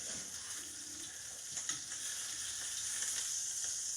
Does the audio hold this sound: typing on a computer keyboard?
no